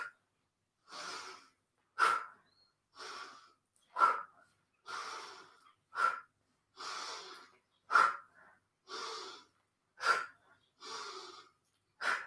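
Close, steady breaths during a morning yoga session, with about a dozen sharp, even-paced inhales and exhales separated by short silences.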